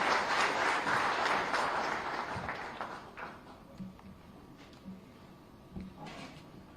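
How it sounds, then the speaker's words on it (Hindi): An audience at a government investors meet in Lucknow applauds in a dense burst of clapping that fades after a few seconds, leaving scattered faint knocks and thuds in a quiet hall. "उन लगातार तालियों के साथ"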